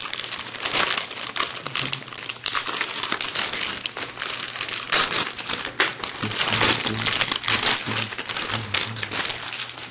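Plastic bag holding black runners from an MG Figure-rise 1/8 Kamen Rider Accel model kit being cut open and handled, a close, continuous crinkling and crumpling with bursts of louder rustle, with no talking.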